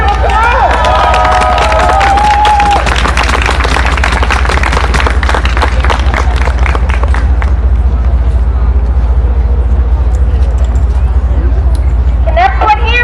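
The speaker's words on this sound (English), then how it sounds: "Everybody give her a round of applause." A rally crowd claps and cheers loudly for several seconds, with broadband applause over steady low rumble, then settles into background murmur and a voice near the end.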